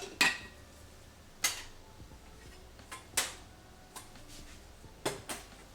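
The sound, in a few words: handling a non-stick Tefal cooking pot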